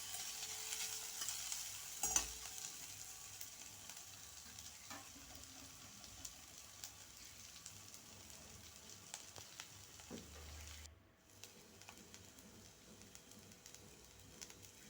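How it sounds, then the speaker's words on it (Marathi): Onion frying in oil in a pan for veg masala pulao, a faint continuous sizzle with occasional soft stirring scrapes, quiet and close, briefly dipping near the end, with no speech. "बघा आता आपला कांदा चांगला भाजलेला आहे."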